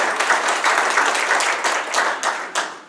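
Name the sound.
audience applause at candidate forum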